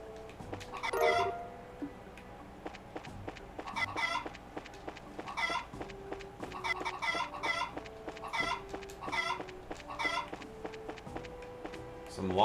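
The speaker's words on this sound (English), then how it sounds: "Chickens!" Chickens cluck repeatedly in the video game Trails in the Sky, short rhythmic cackling bursts over a soft looping game music bed, with one louder squawk near the start.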